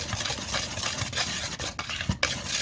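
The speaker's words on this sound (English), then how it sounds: "we're just going to whisk those all together and get those all combined" Sugars and spices are whisked together in a bowl, making quick scraping and rattling strokes close up, with a few sharper clinks of the whisk against the bowl.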